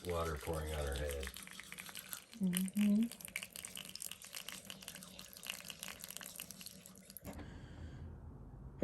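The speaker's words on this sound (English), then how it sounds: "This is our cat's favorite thing to do with water pouring on her head." Water pours from a tap onto a cat's head in a running trickle with brief splashy bursts, fairly close. A voice is heard briefly at the start.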